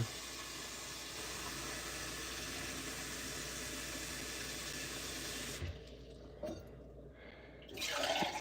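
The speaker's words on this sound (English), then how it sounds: "Pour it into your pitcher" Water pours in a steady, hissing stream into a pitcher for several seconds, then stops abruptly, followed by a few light knocks and a brief splash.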